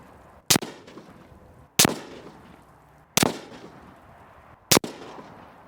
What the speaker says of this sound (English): I'm just going to shoot a confirmation zero for you guys so you can see that it is zeroed